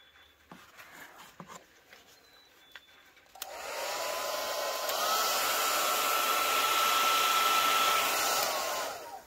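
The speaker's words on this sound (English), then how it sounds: "Got this little heat gun on high." A small heat gun on its high setting, used to shrink heat-shrink tubing during a lithium battery pack repair, switches on partway through with a steady, loud blowing roar and a faint whine. It runs continuously to the end without speech.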